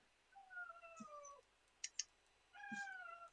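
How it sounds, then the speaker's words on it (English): A pet cat meows insistently to be let out, two drawn-out plaintive meows separated by a few soft clicks, fairly faint and with no voices. "sorry if you can hear my cat. He's being dramatic about getting out"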